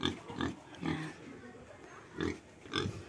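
A pig grunts several times in short, close bursts with brief pauses between, fairly quiet.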